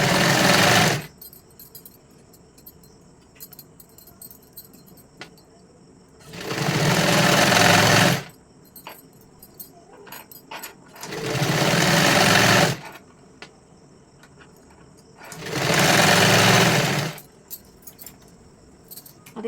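A sewing machine stitches a katori blouse in four loud, steady runs of about two seconds each, separated by quiet pauses with faint handling clicks.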